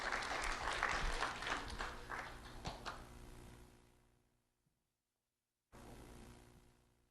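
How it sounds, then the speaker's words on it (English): Applause for a student at a community recognition event, a loud burst of clapping that tapers and cuts to silence before the room sound returns. "Round of applause for Anika Lewis."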